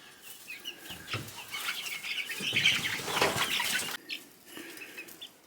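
Chickens cluck and flap their wings close by near a coop, with a burst of scuffling and fluttering building in the middle before settling into quieter clucks.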